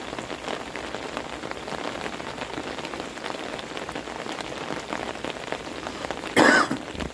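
Steady pouring rain drums close and loud on surfaces near a railing and an umbrella, a continuous heavy hiss, with a brief sharper burst near the end.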